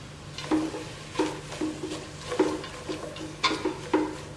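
Onions for French onion soup cook in a pan with a faint, steady sizzle, broken by repeated soft scraping and stirring knocks at an irregular pace, with no talking.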